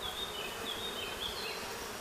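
Honeybees buzzing in a dense, continuous swarm drone, with individual bees' wavering whine rising and falling as they fly past close by.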